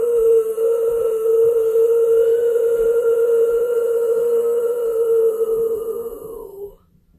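Vocal warm-up of a pushed scream made with the mouth open, a single loud, steady, sustained tone held close for about six seconds before tapering off.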